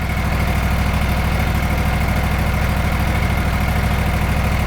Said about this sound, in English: we'll fire the machine up, let it run up, warm up a bit